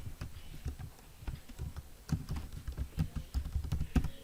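Computer keyboard keys pressed repeatedly, including the tab key, a run of close, irregular taps and clacks that grows denser and louder toward the end.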